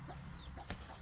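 Chickens in a backyard coop with rice-hull bedding give soft, scattered clucks against a low steady background hum, with one brief sharper sound partway through.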